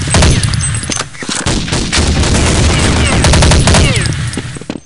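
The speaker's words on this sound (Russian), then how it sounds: "Хорошо стреляешь." Counter-Strike 1.6 gunfire rattles loud and close as near-continuous automatic bursts. Rapid overlapping shots and echoing cracks keep up for several seconds.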